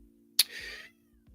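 Cat lets out one short, close meow after a faint click, over a low steady hum, with no other sounds around it.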